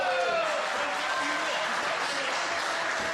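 A wrestling crowd at a pro match applauds in a steady, dense wash of clapping that carries on throughout.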